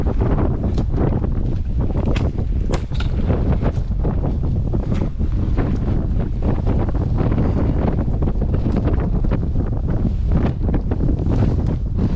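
Strong wind roaring across the microphone on the Glaramara summit in the Lake District fells, a loud continuous buffeting rush with gusty flutters throughout and no voices.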